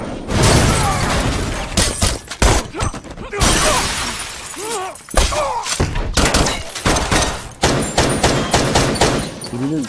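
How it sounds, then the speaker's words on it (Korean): Dense gunfire and shattering in an ambush on a warehouse in the action film Jack Reacher: loud, rapid bursts and crashing impacts with brief gaps, voices mixed in the chaos. "바로 그때 니글리와 라보이의 지원 부대가 창고 양쪽에서 기습 공격을 시작합니다."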